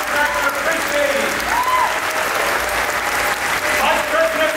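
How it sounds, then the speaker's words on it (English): A large crowd at Star Wars Galactic Nights 2017 at Disney's Hollywood Studios applauds in a steady, dense wash of clapping that stays loud and close throughout, with faint cheers and whistles riding on top. "Please join me in giving them a huge round of applause."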